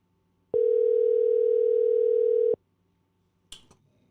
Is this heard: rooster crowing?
no